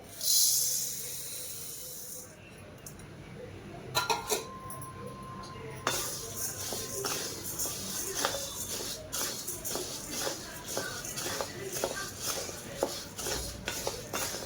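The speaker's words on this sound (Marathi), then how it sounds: "आता आपल्याला गहू भाजून घ्यायचे" Wheat grains being dry-roasted in a pan for thalipeeth bhajani flour, giving a steady soft shuffling, scraping and crackling texture with occasional louder stirring clinks, close by and without talk.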